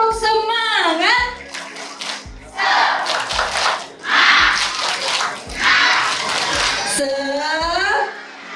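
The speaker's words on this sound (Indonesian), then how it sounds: "Tepuk semangat!" Children at a Ramadan charity gathering for orphans in Kediri, Indonesia, clap the rhythmic 'tepuk semangat' pattern together, bursts of group clapping and cheering alternating with a leader's call.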